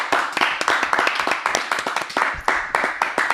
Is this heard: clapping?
yes